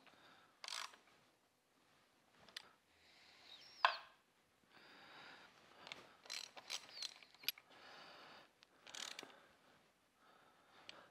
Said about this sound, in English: let's go ahead and stick these new permagap spark plugs in.